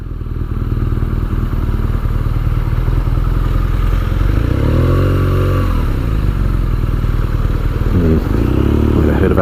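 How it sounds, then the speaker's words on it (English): A 2017 BMW R nineT Scrambler motorcycle is heard while riding, with a loud, constant engine drone and rushing tyre and road roar, and a brief rising and falling engine note midway. "the noise coming off those tyres is quite noticeable"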